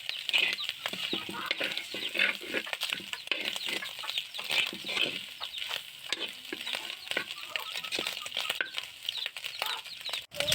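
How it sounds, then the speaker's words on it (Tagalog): Pininyahang kuhol, snails cooked with pineapple, being stirred in a pan: steady scraping and stirring under a bright crackling sizzle that continues throughout at an even, close level. "halo-haloin natin kasi baka naman masunog yung niluluto natin"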